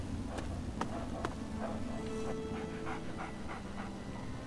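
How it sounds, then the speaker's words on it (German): A dog in the video game Fallout 3 pants in quick rhythmic breaths, up close and moderately loud over a low ambient background. "Braver Hund."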